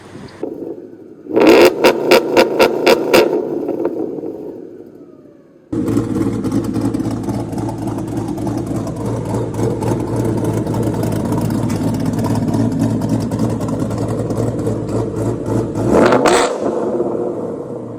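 A 2013 Ford Mustang GT engine idles with a choppy, popping two-step limiter burst near the start, then a loud sustained rev holds steady before another sharp crackling burst at the end.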